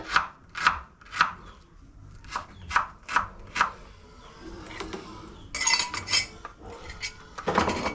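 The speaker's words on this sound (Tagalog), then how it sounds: "gaya-gaya tayo ng sibuyas para sa ating sinabaw" Knife chopping onion on a board for a Filipino fish kinilaw and soup, about nine crisp evenly spaced cuts close by, then clattering utensils and dishes toward the end.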